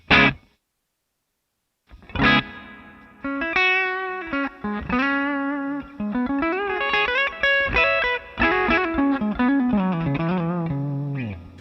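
A Vigier GV Wood electric guitar plays a clean short chord, pauses, then moves into a flowing melodic run with a gentle plate reverb tail on the notes.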